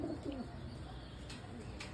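Pigeons in a loft cage coo softly in low, rounded calls at the start, with faint chirps and steady background hiss behind them.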